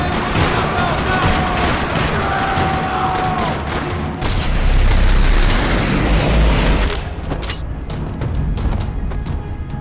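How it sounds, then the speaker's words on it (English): Sustained gunfire in a parking lot in the video game Max Payne 3, dense rattling shots and heavy booms layered into a loud continuous barrage, easing off near the end. "Another parking lot rattling with gunfire."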